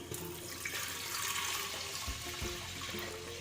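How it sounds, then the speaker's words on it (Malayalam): Milk being poured into boiling water in a pressure cooker for pal payasam, a steady rushing, splashing pour with a soft bubbling undertone, close and continuous, with no one talking. "ഇനി നമുക്കിതിലേക്ക് ഈ പാൽ ഇതിലേക്ക് ഒഴിച്ചു കൊടുക്കാം."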